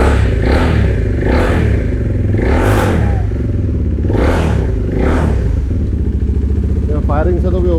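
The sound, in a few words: modified KTM 390 Duke engine running, slight misfire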